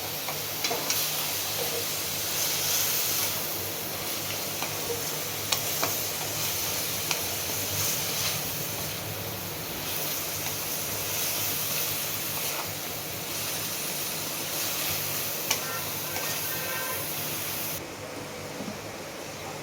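Vegetarian banana flower curry, mochar ghonto, stirred in a pot, a steady soft sizzle and scraping hiss running throughout with occasional faint clinks, alone and close.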